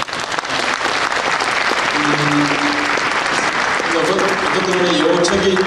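An audience at a book show for a publication on Korea–US FTA hearings claps steadily and loudly throughout. A dense, continuous wash of applause fills the room, with a few faint voices and tones underneath.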